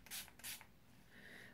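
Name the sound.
spraying Makeup Revolution Pro Fix makeup fixing spray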